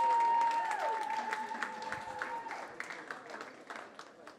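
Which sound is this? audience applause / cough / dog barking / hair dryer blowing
audience applause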